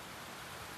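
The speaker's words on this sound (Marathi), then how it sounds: "खूप पाऊस आहे" Heavy rain falling steadily during a car trip from Chhatrapati Sambhajinagar to Pune, a dense, even wash of broadband hiss with no breaks, fairly faint and without voices.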